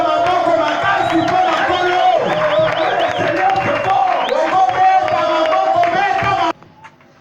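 A church congregation loudly cheers and acclaims the Lord, with a mass of shouting, whooping voices and some clapping that holds steady, then cuts off abruptly near the end.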